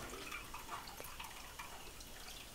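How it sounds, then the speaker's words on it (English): Tap water runs steadily into a small container to cover frozen beef liver, a soft, continuous trickle with faint splashing drips, quiet and close. "I will just fill the little container up with water to cover"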